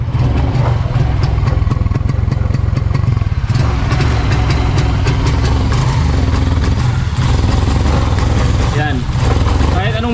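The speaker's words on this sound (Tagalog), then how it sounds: "Pakinggan niyo yung tunog ng tambutso" A Suzuki Smash 115 motorcycle engine idles loudly and roughly, its exhaust sputtering and popping unevenly as it misfires close by.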